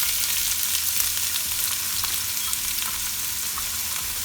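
Onions browning in hot oil with cumin seeds for a green pulao give off a steady, dense sizzle that holds close and even throughout, with faint stirring beneath.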